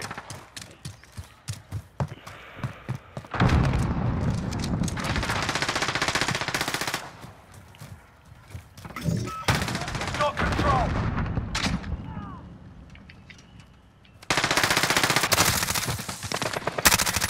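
Rapid automatic gunfire in a first-person shooter game, long sustained bursts close and loud, broken by shorter pauses filled with scattered single shots.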